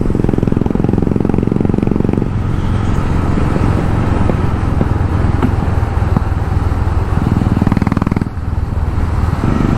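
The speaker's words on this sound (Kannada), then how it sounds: "ಬುಲೆಟ್ಟು ಸ್ಟಾಕ್ ಸೈಲೆನ್ಸರ್ ಎಲ್ಲ ಹಾಕ್ಸಿರೋದು, ಬೇರೆದು ಹಾಕ್ಸಿರೋದು. ಸೊ ಸೌಂಡ್ ನೋಡಿ ಹೆಂಗೆ ಸಕ್ಕತ್ತಾಗಿ ಬರ್ತಿದೆ" A Royal Enfield Bullet motorcycle fitted with an aftermarket silencer in place of the stock one rumbles steadily while riding on a road. The loud, continuous engine thump carries over wind and road noise.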